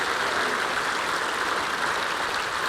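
An audience at an indoor bowls championship applauds continuously, with a dense, even wash of clapping that stays steady and loud throughout.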